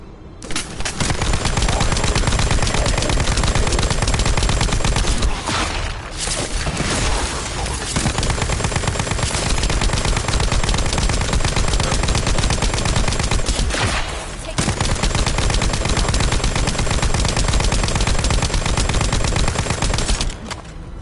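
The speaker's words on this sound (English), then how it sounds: "how many bullets can you take, Buster?" Sustained automatic gunfire blasts loudly and almost continuously in the shooter video game The First Descendant, dense and close with brief dips between bursts.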